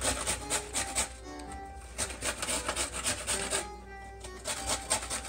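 A carrot is shredded on a metal box grater over a plate, giving steady rhythmic rasping strokes close by with a few short pauses, no voices.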